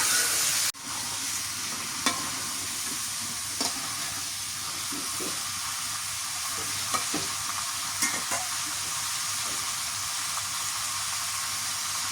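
A spoon scrapes and stirs through shrimp and taro cooking with spices in a hot pan, steady sizzling and frying hiss running throughout with occasional sharper clinks of the utensil.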